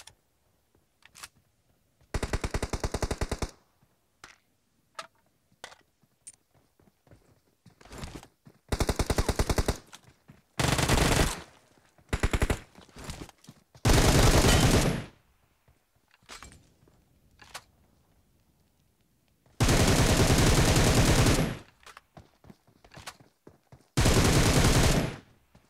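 Gunfire in a squad fight in PUBG Mobile on the Livik map: loud bursts of automatic fire of one to two seconds each, broken by single shots and quieter clicks, with no talk.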